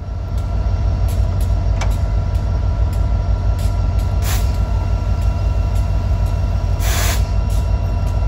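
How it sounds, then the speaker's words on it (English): Kiamichi Railroad train hauled by BNSF locomotives rolls past, a loud, steady low rumble and rail roar with brief higher squeals and clanks, no voices. "Those are the Kiamichi Railroad 700 trains that operate with BNSF power."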